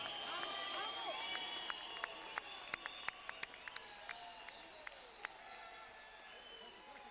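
Audience applause and cheering at a boxing event honoring servicemen and women, a moderately distant crowd clapping steadily with sharp individual claps and whoops scattered through.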